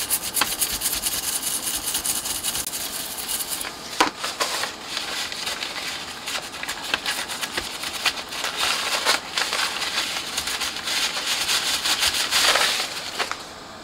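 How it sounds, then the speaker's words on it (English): Sticky flux residue being scrubbed off a Soundcraft EFX12 mixing desk circuit board: continuous close, dry rubbing and brushing strokes with a few sharper scrapes, steady and fairly loud, with no talk. "Just wash that sticky flux residue off."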